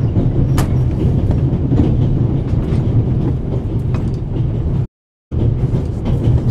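A steady, loud rumble of the Orient Express train rolling along the rails in The Raven Remastered game, carrying on continuously with no talk and breaking off for a moment of silence near the end.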